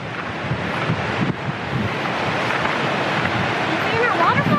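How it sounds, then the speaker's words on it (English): Fast-flowing mountain river near a lakeside campground, a steady, loud broadband rush of water mixed with wind buffeting the microphone, continuous throughout with no talk. "This river's going so fast."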